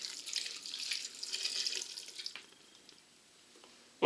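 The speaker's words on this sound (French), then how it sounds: "Et il ne nous reste plus qu'à y rajouter notre verre d'eau." Water runs from a tap in a steady stream for about two seconds, then tapers to quiet trickles and drips, ending with a short sharp clatter as a glass of water is added to a lamb tagine with caramelized dried apricots.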